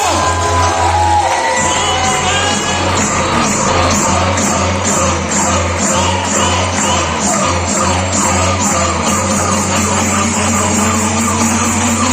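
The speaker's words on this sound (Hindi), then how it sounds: "तालियां।" A crowd at a leadership event cheers and whoops over a steady low musical hum, loud and continuous for about twelve seconds, with scattered shouts rising from the mass of voices.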